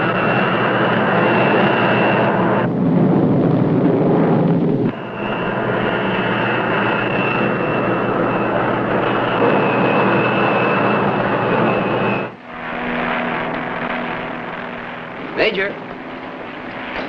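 A plane's engine roars loudly and continuously over a California desert airfield, with abrupt shifts in intensity and brief dips as the aircraft moves, sustained throughout.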